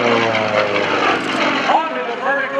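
A propeller aerobatic airplane performs at a lakeside airshow, its engine droning loud and close with a rising and shifting pitch as it maneuvers, under talk from an announcer.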